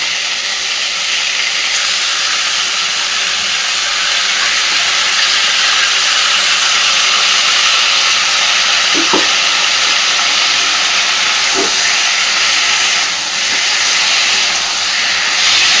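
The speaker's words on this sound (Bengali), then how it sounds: "সুন্দরভাবে কষাতে থাকবো।" A paste of onion, garlic, coriander leaves and green chilli is fried in hot oil with cauliflower and potato, giving a steady, close hiss of sizzling throughout, broken by a couple of faint knocks from stirring.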